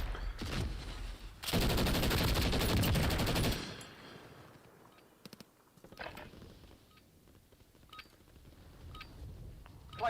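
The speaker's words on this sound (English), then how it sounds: "this thing is killing me with a pistol" Rapid bursts of gunfire in the video game Warzone, a dense two-second volley followed by scattered, fainter shots and clicks against quieter ambient game sound.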